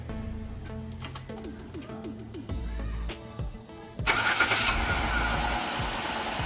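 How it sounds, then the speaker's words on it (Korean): A Hyundai Grandeur HG 300 LPG taxi engine starts, first a series of clicks and a brief cranking, then the engine catches and settles into a steady, fairly loud idle nearby. "그리고 시동을 한번 거세요. 시동, 시동 걸으세요."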